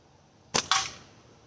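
Two quick sharp cracks a fraction of a second apart, close by and alone: slingshot shots striking a can outdoors, fired from a two-dollar slingshot.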